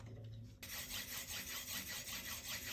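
A knife tip being sharpened on a whetstone, with steady, even strokes of steel rasping back and forth across the stone in a regular rhythm, close and fairly quiet, with no talking.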